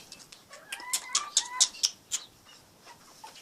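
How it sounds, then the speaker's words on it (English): Chickens clucking and cackling in a backyard animal pen, a run of sharp, fairly loud calls in quick succession over about a second, then fading into softer scattered clucks. "There's just chicken."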